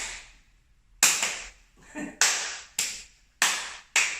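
Single sharp hand claps ring out close and loud during a circus-skills juggling exercise, about six of them spaced unevenly roughly half a second apart, with quiet gaps between.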